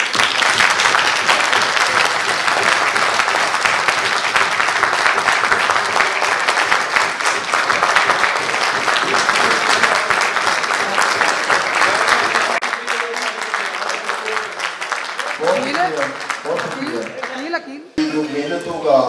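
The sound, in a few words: crowd applauding at press club celebration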